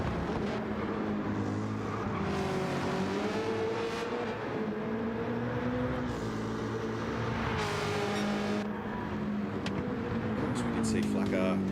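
V8 Supercars roar past in a racing game at Mount Panorama, Bathurst, with engines droning and shifting pitch as cars sweep through in traffic, loud and continuous.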